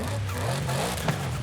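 A deep, steady V8 engine note hums close by in a video game, a car motor idling or cruising with a slight rise in pitch and a brief click.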